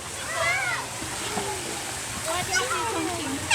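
Water splashes and sloshes in a wave pool at a water park, a steady wash of surf under nearby children's voices and chatter.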